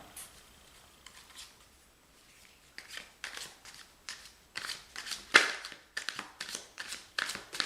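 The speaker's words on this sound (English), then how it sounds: "Let me give these a quick shuffle." Quiet riffling and flapping of tarot and oracle cards being shuffled, growing into a rhythmic series of crisp bursts, close up with no talking.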